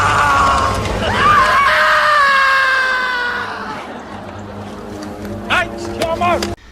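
A man screams loudly in long, strained, wavering cries, followed by shorter yelps, with a low rumble underneath.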